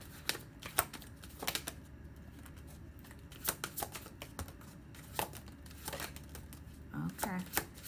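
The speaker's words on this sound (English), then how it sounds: "So I'm going to shuffle and let the cards come out" Soft riffling and flicking of tarot cards being shuffled come in short bursts, quiet and close, with faint speech-like murmurs in the background.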